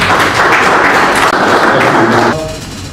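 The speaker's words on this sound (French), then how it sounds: "Nous pouvons l'encourager avec nos applaudissements" Audience applause at a political event on the rule of law, a dense, steady wash of many hands clapping, loud and sustained for nearly the whole stretch before thinning slightly at the end.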